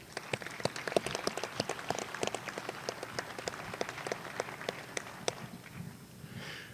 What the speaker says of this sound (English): let's a round of applause for our student veterans